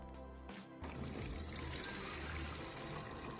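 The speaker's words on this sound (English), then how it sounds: "Carefully tip the battery over and pour out the old liquid into a container." Old liquid from a car battery glugs and trickles into a container as the battery is tipped over, starting with a brief hum before a steady close pour runs on alone.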